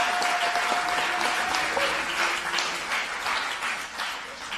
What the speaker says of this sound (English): Let's give a passionate round of applause to the winners.